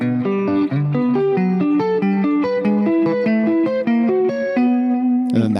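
Electric guitar with effects played with pick and fingers, two parts combined in a steady stream of picked notes at about 140 bpm, ringing clearly with no talking, then a brief strum at the end.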